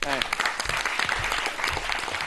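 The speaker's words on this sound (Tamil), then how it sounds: "மேல வாங்க, கைத்தட்டல் கொடுக்கலாமே" Audience applause at a Tamil quiz or stage event, a steady dense patter of clapping that runs through the whole moment with voices talking over it.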